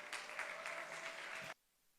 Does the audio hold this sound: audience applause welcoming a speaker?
yes